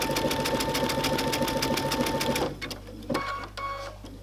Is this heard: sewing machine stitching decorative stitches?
yes